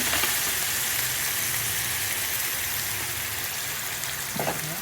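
Chicken pieces frying in a pan in a home kitchen, giving a steady, close broadband sizzle that holds through the whole stretch, with a brief stir or scrape near the end.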